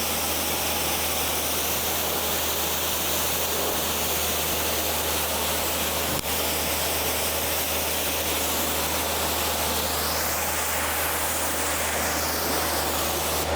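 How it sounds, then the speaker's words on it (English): A pressure washer sprays a Volvo XC90 with a steady, loud hiss of high-pressure water, continuous, with a low motor hum underneath throughout. "I'll get my pressure washer stream going"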